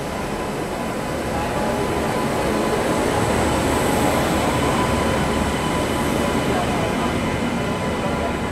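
A Khandesh Express passenger train with its locomotive rumbles steadily at a platform, a loud continuous roar of wheels and machinery that holds throughout without a break.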